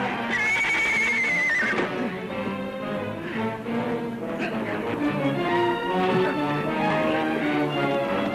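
A horse gives a loud, high neigh near the start, followed by snorting, movement and hoof sounds in an outdoor Western scene.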